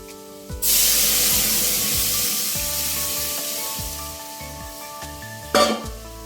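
Dal hits a hot pot in a home kitchen and bursts into a loud, steady sizzle that fades slowly, with a second sharp hiss near the end and some faint clatter underneath.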